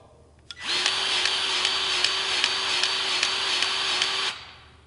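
Milwaukee M18 cordless two-speed grease gun running on low speed, a steady, close motor whine that starts abruptly, holds evenly for about four seconds with faint rhythmic ticks, then stops.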